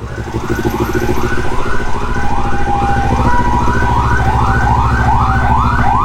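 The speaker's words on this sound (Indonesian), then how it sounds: "Oh, ambulans." A loud, close ambulance siren wails in a fast repeating up-and-down pattern over a steady low rumble.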